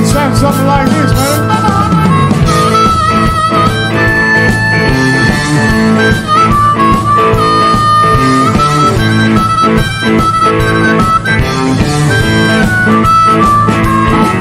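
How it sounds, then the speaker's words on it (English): Horn solo in a rock and roll blues song, a sustained wailing melodic line over a full, loud band backing throughout. "So I began to blow my"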